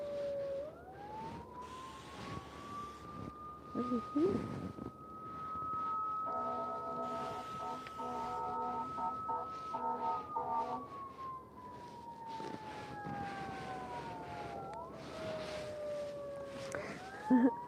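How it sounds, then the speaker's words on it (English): A long, slowly rising and falling siren wails in the distance, steady and moderately loud, with a second pulsing tone briefly joining midway. "sirens in the area."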